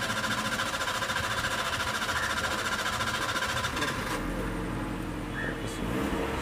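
Suzuki car engine idling, a steady close rumble running without a break, with a faint hint of the idle settling partway through and a brief light rattle near the end.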